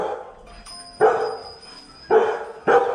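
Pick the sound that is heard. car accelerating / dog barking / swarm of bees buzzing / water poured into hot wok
dog barking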